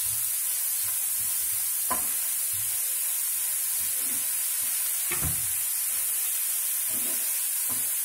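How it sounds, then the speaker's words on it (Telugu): Onions fry in an oiled pan for an egg and spinach dish, giving a steady sizzling hiss broken by a few short scraping stirs of a spoon. "వేగుతున్నాయి. ఇలా 5 నిమిషాలు ఆనియన్ని వేయించుకుందాం."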